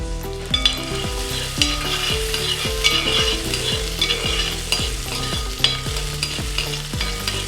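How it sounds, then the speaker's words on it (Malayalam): Chopped garlic fries in hot sunflower oil with cardamom and cloves, a loud, steady close-up sizzle with a few stirring clicks over a rhythmic musical background. "ഇതിലേക്ക് 2 ടേബിൾ സ്പൂൺ ഗാർലിക് ചോപ്പ് ചെയ്ത് ചേർത്ത് കൊടുക്കാം"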